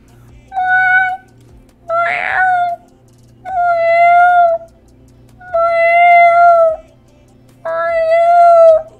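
A cat meowing five times in clear, drawn-out calls spaced a second or two apart, loud and close, over a faint low hum.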